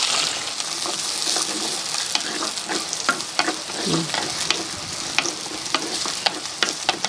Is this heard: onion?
yes